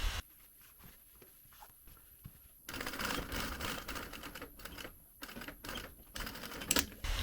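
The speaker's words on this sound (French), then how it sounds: "J'enchaîne avec la surpiqûre qui vient rejoindre la surpiqûre du milieu devant." A sewing machine topstitches a trouser fly, its needle chattering in quick, close-miked runs with brief pauses, then a longer continuous stretch of stitching broken by short stops.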